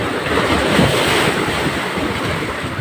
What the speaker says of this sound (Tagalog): Malalakas ang alon ah.